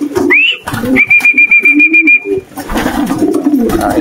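Pigeon cooing close by, with soft repeated coos mixed with a rising whistle and a long steady whistled tone, plus rustling and movement in between.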